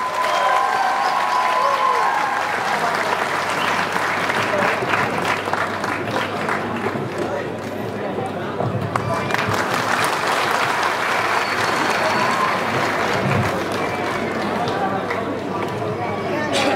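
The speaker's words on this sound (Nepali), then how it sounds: "जोरदार ताली बजाइदिनु होला।" An audience at the Lok Dohori music award ceremony applauds loudly and steadily, a dense clapping crowd that keeps going throughout, with a voice speaking over it.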